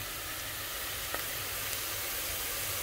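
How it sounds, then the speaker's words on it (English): Onions fry golden brown in a pan for a pilau, giving off a steady, even sizzle that carries on without a break, with one faint tick partway through. "Now my onions are turning golden brown"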